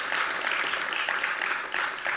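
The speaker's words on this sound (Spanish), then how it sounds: "brindamos otro caluroso aplauso para los expositores" An audience at a talk on autism spectrum disorder law gives warm applause for the presenters, a continuous clatter of many hands, moderately close and steady for about two seconds.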